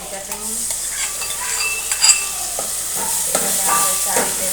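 Okra (bhindi) curry with chutney and garlic paste stirred in a pan, a steady scraping of spoon against metal over a soft sizzle with scattered sharper clinks, close and alone.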